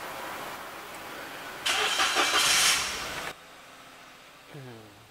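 A 2011 Daihatsu Ayla X with automatic transmission cranks and catches, giving a loud burst of about a second and a half over steady background noise before settling to a quieter idle, with a brief voice near the end.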